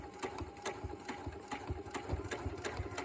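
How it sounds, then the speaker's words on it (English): A sewing machine runs steadily up close, stitching quilt backing fabric along a pressed crease line, its needle thumping in a quick, even rhythm without pause. "So I'm just going to sew all the way down the length of the fabric"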